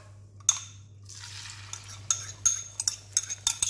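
An egg is poured into melted butter in a small pan, a soft sizzle swelling up followed by a run of sharp metallic clinks and scrapes of a utensil against the pan, close and quiet, without speech.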